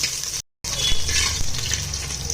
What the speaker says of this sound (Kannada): ಸ್ವಲ್ಪ ಈರುಳ್ಳಿ, 1 ಅರ್ಧ ಈರುಳ್ಳಿನ ಹೆಚ್ಚಿಬಿಟ್ಟು ಹಾಕಿದ್ದೀನಿ